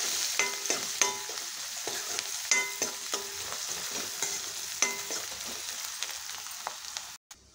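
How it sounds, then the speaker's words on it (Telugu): Pan frying with salt and turmeric added: a steady background sizzle broken by repeated sharp spatula scrapes and taps at an irregular rhythm, close and fairly quiet, ending abruptly, with no talk. "బాగా ఫ్రై అవ్వాలండి ఇది"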